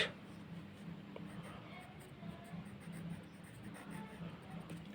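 Pen writing on paper while labelling a diagonal scale, producing faint soft scratching strokes close by under a low background hum.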